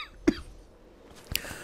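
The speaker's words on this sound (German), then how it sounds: "Oh Gott, schon ein Hustenanfall." A character coughs twice in Rise of the Tomb Raider, two short separate bursts with a quiet pause between them, close and moderately loud against faint game ambience.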